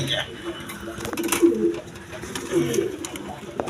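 High-flying pigeons, a male and female pair, cooing in a coop at a bird market; a few soft coos come close by while someone talks over them.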